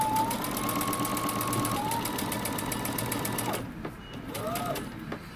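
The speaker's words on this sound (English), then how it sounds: "Now we're going to sew using 5/8 of an inch seam allowance." A sewing machine stitches a seam on a jumper at a 5/8-inch allowance, running steadily in rapid close chatter with a brief pause and restart, then stopping for a short burst near the end, with faint talk in the background.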